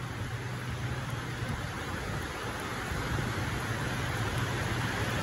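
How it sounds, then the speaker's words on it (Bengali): Heavy rain falls steadily in Oman, a dense continuous hiss of rain with a low rumble beneath, even and unbroken throughout, with no voices. "ওমানে এক বছর পরে দেখেন কত কঠিন ভাবে বৃষ্টি হইতে আছে"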